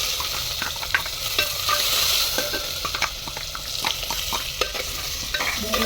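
Onions drop into hot oil already seasoned with cumin, asafoetida, red chillies and bay leaf, giving a steady loud sizzle and crackle while a utensil stirs and scrapes the pan in repeated strokes.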